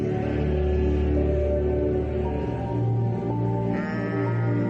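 Sheep in stone corrals bleat continuously, several voices overlapping in a loud, sustained chorus with no talking.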